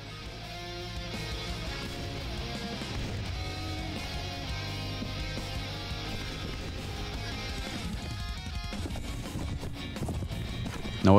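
Galloping hooves pound steadily among a dense mix of battle noise and music, loud and continuous throughout, during a cavalry charge in the video game Prophesy of Pendor.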